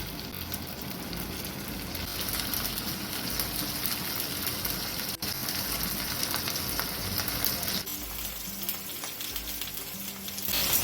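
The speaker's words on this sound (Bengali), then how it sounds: "তেলটা গরম হয়ে গেলে টোফুগুলো দিয়ে দেবো দিয়ে হালকা করে ভেজে নেবো" Pieces of tofu fry lightly in a small amount of hot oil, giving a continuous crackling, spattering sizzle heard up close that carries on steadily, with a brief drop-out midway and no talking.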